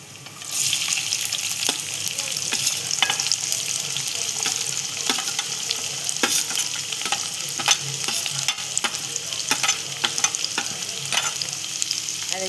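Onion sizzling as it fries in a pan while being stirred for a Marathi monsoon wild-greens recipe, a continuous hiss broken by regular sharp scraping and clinking strokes of the spoon, close and without talk.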